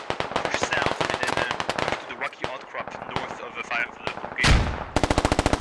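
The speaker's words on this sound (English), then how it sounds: "Grenades coming off." Grenade blasts and gunfire in the military shooter game Squad, with Russian forces fighting in a forest: rapid loud bursts of automatic fire, a heavy close explosion near the end, then another string of sharp shots.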